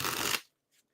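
Tarot cards being shuffled at a live reading: a dense, close papery riffle fills the first half-second and then cuts off abruptly, followed by near silence and one faint soft rustle.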